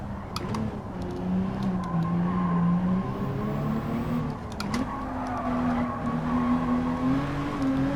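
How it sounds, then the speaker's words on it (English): A Honda NSX-R in Gran Turismo 7 brakes hard into a corner, a steady engine drone with a strong, loud tire squeal that wavers and holds for several seconds as the car slides, heard alone. "now we'll try and hit the brakes even earlier, so before we get to 200 mark"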